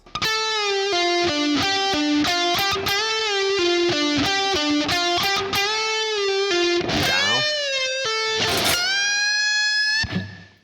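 Distorted electric guitar plays string bends from a solo, a fast run of bent notes with wailing pitch slides and a final sustained bend, loud and alone.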